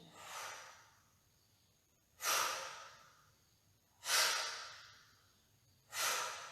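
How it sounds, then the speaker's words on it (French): Close, audible breaths come during a Pilates twisting exercise, four strong exhalations spaced about two seconds apart, each a sharp rush of air that fades out, with no talking. "tu respires à chaque fois que tu tournes"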